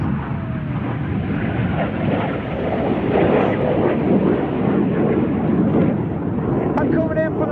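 The Red Arrows synchro pair jets fly at the Cosford airshow, their engine roar a sustained, fairly distant wash that swells slightly mid-clip beneath a commentator's voice.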